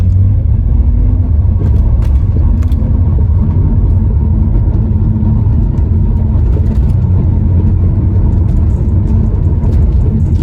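A BMW 335i F30 with a ZF 8-speed automatic accelerates, heard from inside as a loud, constant low engine and road rumble with no talking.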